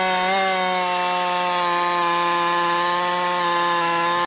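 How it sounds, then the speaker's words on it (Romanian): A cheap Ural chainsaw, a Chinese-made budget model, runs steadily at a constant idle-to-mid throttle, a loud, buzzing two-stroke drone close by that holds an even pitch for the whole stretch and cuts off abruptly at the end, with no talking. "o să vă arăt cum pornește o drujbă, nu știu, China, deci că e Ural, o drujbă ieftină"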